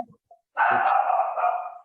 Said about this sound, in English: is our dog Teddy